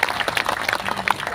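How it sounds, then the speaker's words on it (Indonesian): Audience at an Indonesian Islamic sermon gathering breaks into a short burst of applause, dense overlapping hand claps at moderate distance lasting just over a second. "Tepuk tangan dulu buat polisi dan tentara."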